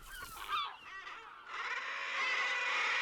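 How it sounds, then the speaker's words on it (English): Seabirds call from a dense breeding colony on sheer sea cliffs in the Scottish Isles, a steady wash of overlapping cries and honks, close and continuous. "Here, seabirds come together in dense colonies to breed."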